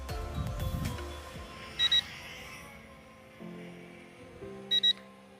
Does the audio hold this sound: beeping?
yes